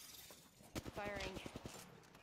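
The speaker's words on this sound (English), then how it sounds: "Firing." A faint, quick burst of rapid gunfire in a shooter video game, lasting about a second against a low background.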